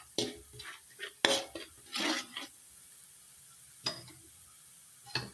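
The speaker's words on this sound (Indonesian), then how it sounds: "Kita tumis sampai dengan matang dan baunya wangi" Shallots and candlenut are sautéed in a pan at close range, with scattered clinks and scrapes of a utensil against metal and bursts of stirring between quiet gaps.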